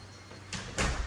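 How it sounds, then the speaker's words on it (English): A house front door being opened at the start of a walk-through tour of a two-car-garage, four-bedroom home, giving two soft broadband rustling swells, the second louder and near, with no talking. "when you open the front door of the Carolina Stanley"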